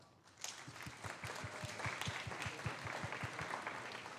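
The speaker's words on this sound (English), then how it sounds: "So all the parents, can you please raise your hands so we can give you a round of applause as well?" At a FIRST Tech Challenge robotics event in Vermont, a crowd gives soft, somewhat distant applause for the parents, with a run of evenly spaced low thumps beating through the clapping.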